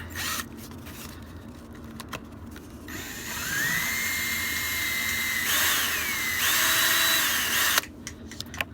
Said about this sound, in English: You just drill a hole into it.